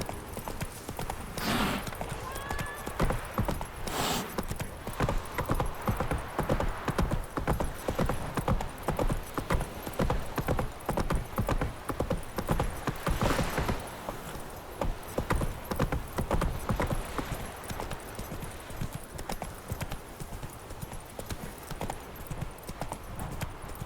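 Hooves of the horse Roach clip-clop steadily in a galloping rhythm through The Witcher 3 video game, loud and continuous, with a brief whinny and a few faint voice fragments.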